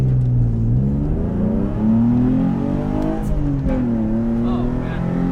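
A Nissan 350Z project car's engine is revved repeatedly, its tone climbing and falling through several strong pulls, loud and close, with a voice briefly heard over it.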